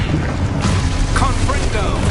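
Exposo explosion spell from Hogwarts Legacy, a dense low rumbling blast sustained through a short burst, loud and close, with brief crackling accents on top.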